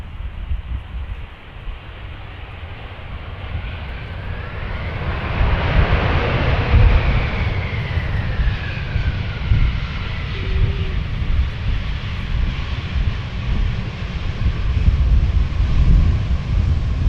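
Air Serbia jet airliner at Amsterdam Schiphol, engines roaring loudly as it passes close, the whine sweeping in pitch before settling into a sustained rumble, with some wind buffeting the microphone.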